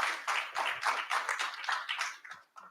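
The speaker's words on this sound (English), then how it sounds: "I think that does deserve a round of applause." A small audience at an emergency summit of Jewish leaders gives a short, quick round of applause, light rhythmic hand claps close by, fading after a few seconds.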